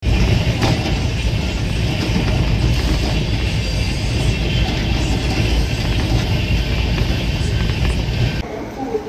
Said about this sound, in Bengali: জাস্ট ছাড়লো ট্রেন।